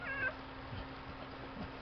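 A newborn kitten mews once, a short high cry at the start, followed by faint rustling over a steady low hum.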